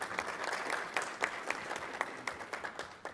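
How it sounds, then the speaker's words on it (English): A member-meeting audience gives a round of applause, a dense patter of hands that thins toward the end into sparser, distinct claps. "round of applause to you."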